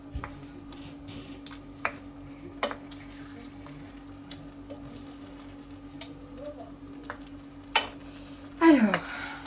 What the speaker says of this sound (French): on retourne les bouts de viande.